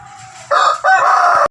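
A high-speed breed rooster being sold in Nellore crows once, close and loud, a strained crow rising in two strong segments and cutting off sharply after about a second.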